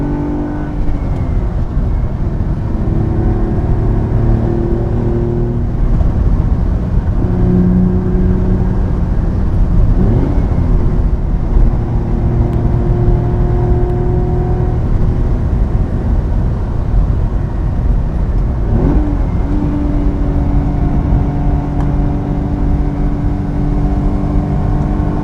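A 1974 Ferrari 246 GTS Dino drives a winding road with sweeping bends, its engine loud and continuous, the pitch climbing and falling through repeated accelerations and gear changes.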